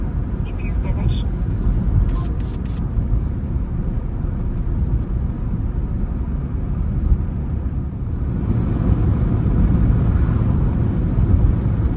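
A car driving along a street in the USA, a steady broadband road and engine rumble throughout, with a brief higher whine early on and the noise swelling slightly louder near the end; no talk is heard.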